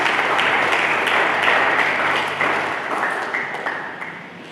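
A church congregation applauds for Jesus Christ during a sermon, loud sustained clapping from many hands that gradually thins and fades over a few seconds.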